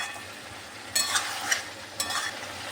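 Pieces of giant taro root fry in a pan with a soft background sizzle. A spatula scrapes and stirs in a few distinct bursts about once a second, close and clear.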